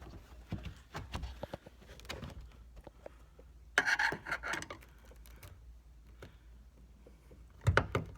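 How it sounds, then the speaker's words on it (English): A screwdriver pries the wire holder out of a Nissan Maxima taillight housing, giving close scraping and rubbing plastic sounds with scattered small clicks and a couple of sharper pops. "And all you can just pry it out using anything. I use a screwdriver"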